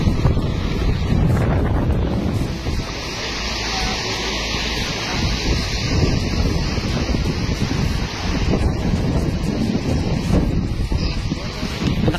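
Strong wind buffets the microphone in a loud, continuous roar, with waves and water sloshing underneath throughout.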